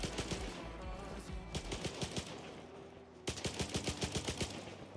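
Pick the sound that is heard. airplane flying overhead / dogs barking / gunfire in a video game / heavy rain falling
gunfire in a video game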